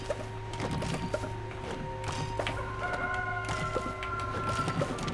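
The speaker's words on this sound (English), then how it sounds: "the sound of a hen cawing or whatever signals the start of another day" A rooster crows at dawn in the video game Palia, with a few clucks and crow-like calls over a steady ambient game hum, fairly quiet and with no talk.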